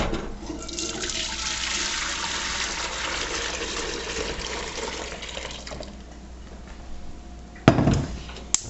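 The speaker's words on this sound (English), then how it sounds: "and you just pour all that back in." Chicken broth poured from a strained colander back into a pan for chicken and dumplings, a steady sloshing stream of liquid for several seconds, then tapering off, with a sharp clank of cookware near the end.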